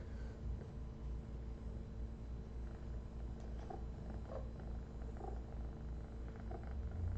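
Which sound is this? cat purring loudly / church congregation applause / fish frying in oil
cat purring loudly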